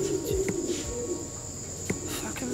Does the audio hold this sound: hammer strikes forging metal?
no